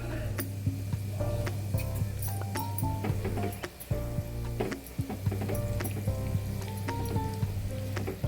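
Hot oil sizzling in a pan during tempering with asafoetida and turmeric for a Bhogi bhaji, a steady close crackle with scattered pops and spits, with a low hum running underneath.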